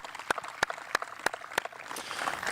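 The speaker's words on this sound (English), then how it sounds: "Let's give these teams a well-deserved round of applause." A few sharp, evenly spaced claps at a high school sports awards night, followed by a broader crowd applause that swells toward the end.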